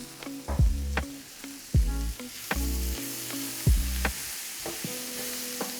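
Cabbage sautéing in a pan with red pepper, salt and black pepper, sizzling steadily with sharp crackles and pops at irregular intervals as it is stirred, close and loud with no talking.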